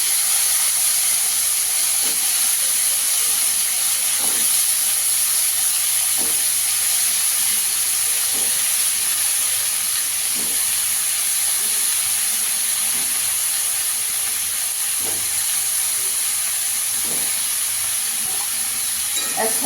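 Papaya and potato pieces frying together in a pan for a prawn curry, a loud continuous steamy hiss with faint periodic stirring knocks spaced every couple of seconds.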